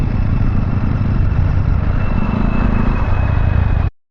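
A Royal Enfield Bear 650 motorcycle cruises at 2000 rpm in sixth gear, a loud, steady low engine thrum mixed with heavy wind rush that runs unbroken and then cuts off abruptly near the end.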